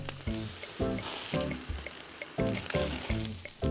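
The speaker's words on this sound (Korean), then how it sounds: "지글지글 맛있게 익어가는 소리에 한 번 반하고" Green onions sizzle while grilling over an open fire outdoors, with steady loud crackling and hissing under a repeating rhythmic musical pattern.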